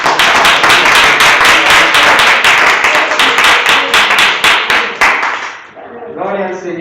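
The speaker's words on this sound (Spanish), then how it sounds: "Un aplauso" Church congregation applauding during a Spanish-language Sunday worship service: loud, dense clapping from many hands for about five seconds, then fading as voices begin speaking.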